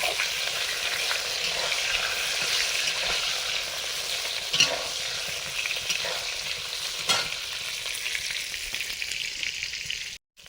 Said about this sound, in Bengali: বেগুনগুলো ভাজা হয়ে গেছে